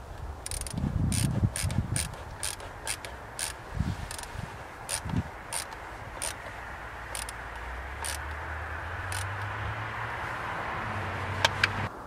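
Ratchet wrench clicking in repeated short bursts while tightening throttle body bolts on a Volvo S60 during a PCV crankcase breather service, close and crisp with pauses between runs of clicks.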